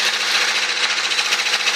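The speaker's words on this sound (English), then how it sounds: "As we were doing the borehole drilling, we're drilling the borehole." A borehole drilling rig working at a farm house, giving a steady loud rough grinding and rattling noise that fills the whole stretch without a break.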